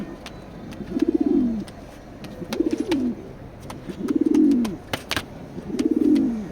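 Grizzle pigeons in a loft coo in four separate rolling phrases at a steady interval, close and clear, with faint clicks and rustles between the calls.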